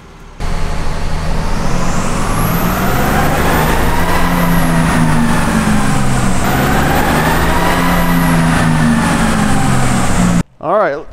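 A diesel truck engine runs hard on a dyno on farm dyed fuel, a loud sustained roar with a rising and falling whine that stops abruptly just before the end.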